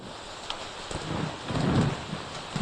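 Rain falls steadily and fairly close, with a constant patter and wash and a soft low rumble swelling in the middle.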